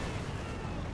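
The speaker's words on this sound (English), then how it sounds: "deny it with incendiary artillery" Incendiary artillery barrage in the World War II strategy game Company of Heroes 2, a dense, continuous rumble of shelling and crackling impacts that holds steady at full loudness for about a second.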